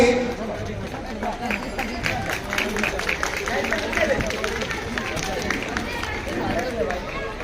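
Audience clapping fills a school event hall, a steady wash of many hands under crowd chatter and a voice speaking over it.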